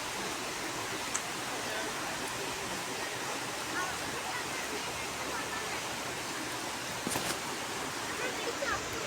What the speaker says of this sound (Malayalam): അവിടെ നിന്നും വെള്ളം ഒഴുകി വരുന്നുണ്ട്